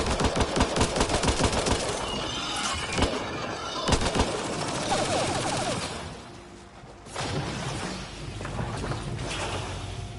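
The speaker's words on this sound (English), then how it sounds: "please stop shooting indiscriminately at things that are behind me" Gunfire from the video game Mass Effect Andromeda: dense bursts of rapid shots and impacts in loud, sustained combat noise, easing briefly near the end before picking up again.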